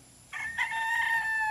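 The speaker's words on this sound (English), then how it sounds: "And the dark red rooster." A single crow from a dark red rooster in a rural province yard, clear and fairly close, rising to a sustained tonal call that carries through the end.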